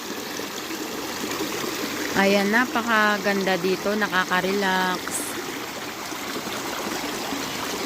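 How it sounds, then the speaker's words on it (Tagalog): River water flows steadily with a broad, even rush throughout, while someone talks over it in the middle stretch. "yung agos pa lang ng tubig"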